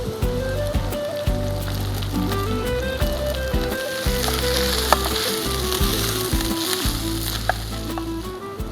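Rice and chopped coriander leaves sizzle loudly and steadily in a hot pan for lemon coriander rice, with occasional stirring scrapes and crackles cutting through the frying hiss.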